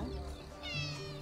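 A cat meows in a Game of Thrones episode, a short rising cry heard over the show's background music and sound, with no one speaking.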